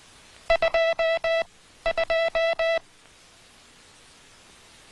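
Two bursts of clean electronic beeps, each a run of short and long tones, with a pause between groups; crisp, close and steady over quiet background.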